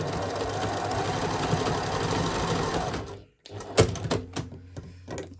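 A sewing machine runs steadily while stitching a fabric strip alongside an enclosed cord, a continuous close whir that stops briefly near the end before a few short bursts of stitching and clicks resume.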